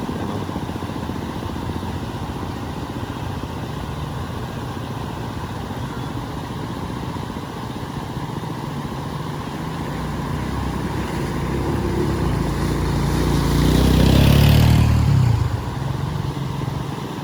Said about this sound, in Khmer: តែម៉ូតូចាស់នឹងអាយ៉ាប់ឆ្លងទៅហើយ